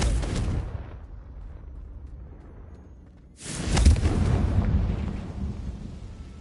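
Two deep, booming blasts from a Confringo fire spell in the Hogwarts Legacy video game, the first fading out and the second following after a short pause with a long rumbling tail.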